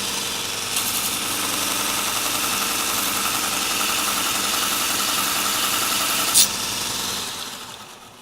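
A sharpening machine grinds a small blade on a 120 grit wheel, a steady whirring drone that runs for several seconds with one brief scrape before winding down, no voices.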